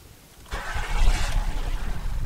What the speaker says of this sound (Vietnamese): Bây giờ mình để cái máy nổ các bạn nha.